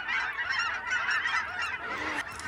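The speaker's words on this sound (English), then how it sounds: "Always with the geese." A flock of geese honks continuously nearby, overlapping calls forming a loud, busy chorus with no talking.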